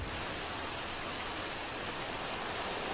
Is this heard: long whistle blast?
no